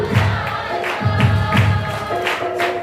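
A church congregation at a Sunday worship service in Odisha claps along, producing a crowd-like rhythmic clatter with repeated swells of many voices singing or calling out.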